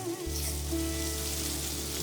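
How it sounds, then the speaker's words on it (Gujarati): Red chili sizzles in hot oil for a tempering, a dense, steady frying crackle with a low hum beneath and a sharp louder burst at the very end. "તેલ સાથે લાલ મરચું સતળાશે"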